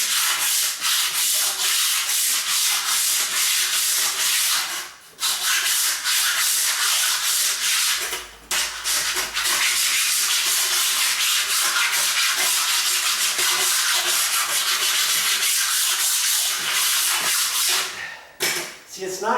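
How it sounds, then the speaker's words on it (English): A flat 8-inch scraper blade rasps steadily across a floor, stripping old glue in long continuous strokes with a few brief pauses between passes, loud and close with no talk. "This is an 8-inch wide, 8-inch long scraper blade."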